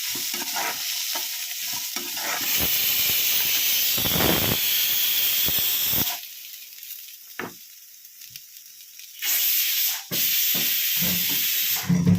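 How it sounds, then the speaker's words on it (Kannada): Steam hisses loudly and steadily from a pressure cooker holding bitter gourd for about six seconds, then drops to a quieter, broken hiss with short bursts near the end; no voices. "ಹಾಗಲಕಾಯಿ ಇಟ್ಟಿದ್ದು ಕುಕ್ಕರ್ ವಿಷಲ್ ಬಂತು, ಅದನ್ನು ಆಫ್ ಮಾಡ್ಕೊಳ್ತಾ ಇದ್ದೀನಿ"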